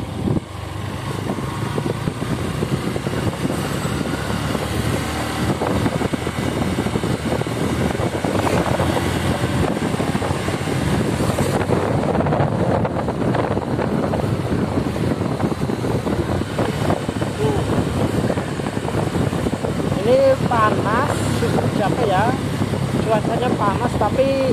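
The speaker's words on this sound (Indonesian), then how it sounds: "Tapi anginnya kenceng ya" Strong wind buffets the microphone along a road near Ajibarang, Banyumas, Central Java, a continuous gusty roar mixed with passing vehicle noise while people talk throughout.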